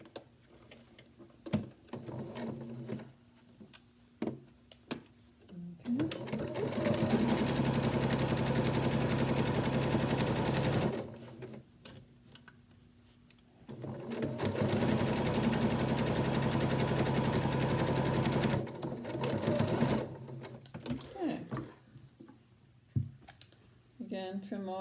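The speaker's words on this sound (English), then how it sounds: "we're going to sew those together" A sewing machine stitches two fabric face mask pieces together in two sustained bursts of rapid whirring, separated and framed by quiet clicks and handling noises.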